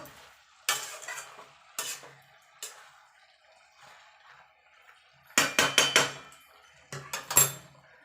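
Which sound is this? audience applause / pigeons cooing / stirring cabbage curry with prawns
stirring cabbage curry with prawns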